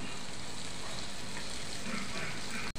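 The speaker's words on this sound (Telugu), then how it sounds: "ఒక 10 నుంచి 15 వరకు కాజు పల్కులు యాడ్ చేసుకుందాం। ఇవి కూడా ఫ్రై చేసుకుందాం।" Tomatoes and cashew pieces fry steadily in a hot pan for a vegetable biryani, a dense close sizzle that runs unbroken and then cuts off sharply at the end.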